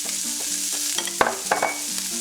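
Shrimp, pepper, onions and tomatoes are stirred in a hot pan for empanada filling, with a steady sizzle and small scraping clicks from the utensil.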